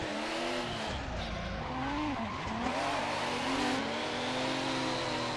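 A race car drifts in the Assetto Corsa video game, its engine revving hard while the tires squeal almost continuously, loud and steady throughout with rising and falling engine pitch.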